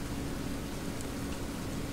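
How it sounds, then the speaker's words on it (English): Steady rain hisses in a Roblox Jailbreak game world, an even wash of dense patter with no breaks or thunder, moderately loud throughout. "I definitely hear rain sounds."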